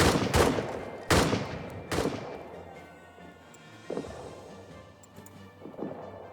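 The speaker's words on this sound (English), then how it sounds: "Let's hope that this suppression fire does a significant amount of damage to the enemy" Suppression gunfire in a WWI trench video game, several heavy booming shots in quick succession followed by fainter, more distant reports fading into a low rumble.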